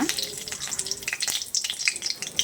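Spices tempering in hot oil spit and crackle in rapid, uneven bursts, a close, busy sizzle with sharp pops scattered throughout and no talking.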